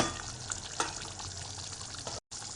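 Fish goes into a simmering, thickened Tamil meen kulambu (fish curry) on a low flame. A soft, steady bubbling and sizzle carries on with a couple of faint splashy knocks. Nobody speaks.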